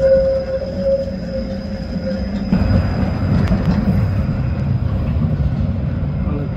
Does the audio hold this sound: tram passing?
yes